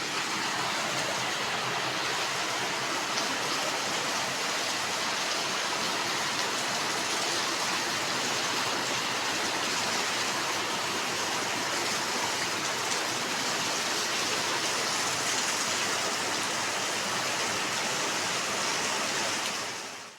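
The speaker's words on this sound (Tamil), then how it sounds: "ஒரே மழை பெய்கிற சத்தமாக இருந்தது" Heavy rain falling in a steady, dense broadband roar that holds constant for the whole stretch, loud and close, with no voices.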